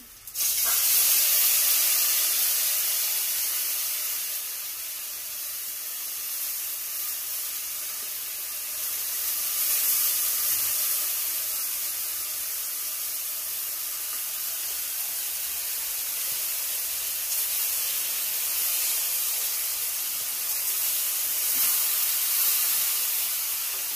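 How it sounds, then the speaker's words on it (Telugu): Tamarind juice poured into a hot tempering gives a steady, loud hiss like liquid hitting hot oil, holding fairly even throughout with slight swells, no voices. "ఇవి తాలింపు మగ్గింది కదా, దీంట్లో మన చింతపులుసు పోస్తున్నాను చూడండి"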